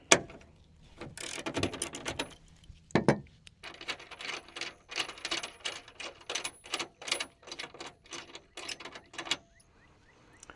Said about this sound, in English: Then you want to use the T50 and remove the cable bolt.